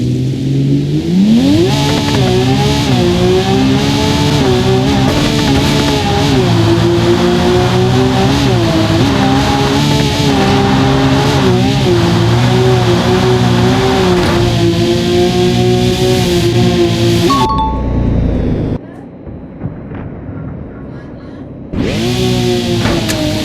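A Lamborghini engine in the BeamNG.drive driving simulator revs loudly and continuously, its pitch sweeping up and down through gear changes, then cuts out abruptly near the end before roaring back for the last seconds.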